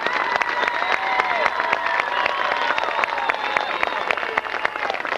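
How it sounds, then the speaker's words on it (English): A large stadium crowd at a 1995 high school football game applauds and cheers the senior band members, steady clapping and whooping spread wide across the stands for several seconds, with a few distant voices mixed in. "Ladies and gentlemen, your 1995 senior band members, give them a big round of applause."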